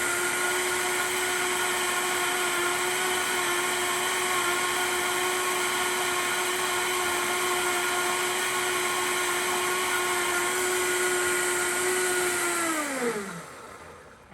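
A blender whirs loudly and steadily as it purees cashew cream, a constant high-pitched motor whine that holds for several seconds and then winds down abruptly as the motor spins to a stop.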